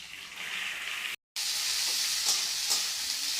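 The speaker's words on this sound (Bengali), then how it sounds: "সবজিতে আলু দিয়েছি গাজর সুটি আর পেঁয়াজ দিয়ে সবজিটা ভেজে নিচ্ছি" Potato, carrot, peas and onion frying in a pan give a steady close hiss of sizzling, broken by a brief silent gap, with a few faint scrapes of stirring toward the end.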